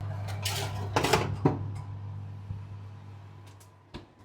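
Khachapuri made with puff pastry going into a kitchen oven: a few clattering metallic knocks of the tray against the rack, followed by a faint thump, over a steady low appliance hum.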